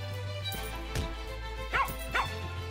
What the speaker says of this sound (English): I feel like we need another guard dog.